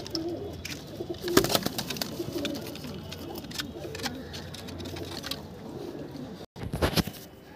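Pigeons in a loft give a steady low cooing, close and moderately loud, with soft rustling and scattered clicks throughout and a brief dropout near the end.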